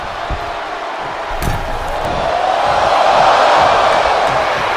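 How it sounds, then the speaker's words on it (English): A wrestling arena crowd roars and cheers loudly at a battle royal, a steady wall of noise that swells toward the middle, with a few sharp slams cutting through. "The sound of this crowd is deafening, and he's asking for more"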